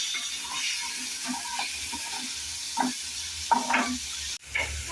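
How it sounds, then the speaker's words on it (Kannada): Eggs fry in hot oil with onion and chilli, a soft, steady sizzle and hiss with a few scrapes and clinks of a utensil against the pan, fairly quiet and close. "ಎಣ್ಣೆ ಕಾಯಿದ್ಮೇಲೆ ಮೇಲೆ ಈರುಳ್ಳಿ ಖಾರ ಹಾಕೊಂಡಿದ್ದಾರೆ ಸ್ವಲ್ಪ ಫ್ರೈ ಆದಮೇಲೆ ಇದನ್ನು ಇದನ್ನೆಲ್ಲ ಕಟ್ ಮಾಡಿ ಇಟ್ಕೊಂಡಿರೋದು ಮೊಟ್ಟೆ ಎಲ್ಲ ಹಾಕ್ತಾಯಿದ್ದೀವಿ"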